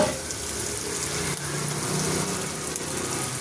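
Chicken frying with garlic and turmeric in a pan gives a loud, continuous sizzle close by, with faint stirring movements and one brief knock partway through.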